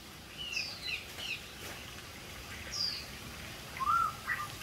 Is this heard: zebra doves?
yes